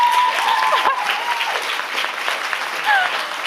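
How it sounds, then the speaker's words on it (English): Audience clapping at a book launch event, a steady, fairly loud patter of many hands throughout, with a few faint whistle-like tones and some voices mixed in. "for those of you who are wondering why all the claps"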